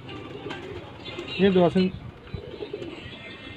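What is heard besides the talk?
home-bred pigeons cooing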